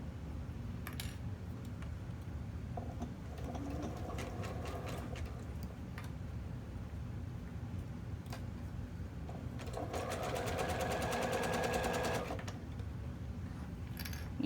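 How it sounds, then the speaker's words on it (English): A sewing machine zigzag-stitching stretched elastic along a fabric edge for a bralette, at 3.5 width and 5 length, runs in a low steady hum with rapid needle clatter that quickens into a dense burst near the end. "So we're going to be sewing right along this edge."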